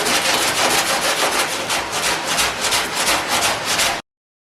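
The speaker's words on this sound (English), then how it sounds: "we're going to just start 40 grit, shaping this up" Coarse 40-grit sandpaper on a small hand block rasps steadily across body filler on a side-swiped 2014 Subaru Impreza, loud close rhythmic back-and-forth strokes with no talking, ending abruptly.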